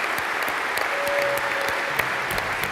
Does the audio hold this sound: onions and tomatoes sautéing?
no